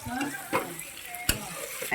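Meat fries in a pan with a steady sizzle and occasional sharp scrapes and clinks of stirring, while voices murmur faintly nearby.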